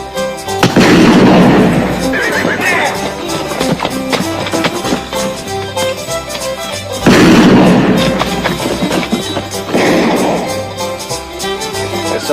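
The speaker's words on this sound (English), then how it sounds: "There's somebody shooting." Loud gunshots and booming blasts from a western film, several heavy reports spaced a few seconds apart, each followed by rolling echo and clatter.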